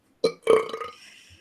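A person lets out two burps in a row, the first short and the second longer and louder with a drawn-out, rumbling tail, close to the mic with no talking.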